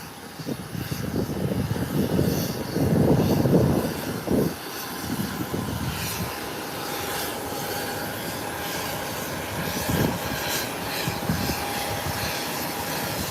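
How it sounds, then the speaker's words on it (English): JetBlue jet airliner taxiing back to the parking ramp at Howard Hamilton International Airport, a steady engine rumble and whine that swells briefly, then holds at a fairly loud, continuous level with no talking. "JetBlue has made its 180-degree turn and is heading back to the parking ramp"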